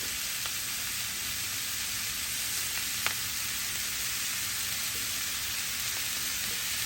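Bacon and cabbage fry in a pan with a steady, loud hiss of sizzling grease, and a few faint scrapes and clicks come from the mixing.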